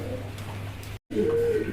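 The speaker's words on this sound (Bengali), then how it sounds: "এখানে আরও এক কবুতর আছে এটা হলো শোকিং হোয়াইট" A pigeon gives a brief, soft coo close by, broken by a momentary cut in the sound, with faint background noise around it.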